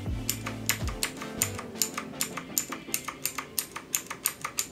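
Keys pressed one after another on a Rampage KB-R19 metal-bodied gaming keyboard, a steady run of about twenty crisp clicks heard close up, with a low hum at the very start.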